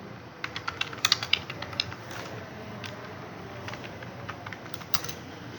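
Quick bursts of plastic key clicks on a computer keyboard as code is typed, close and fairly quiet, clustered in the first two seconds and then scattered sparsely over a low steady room hum.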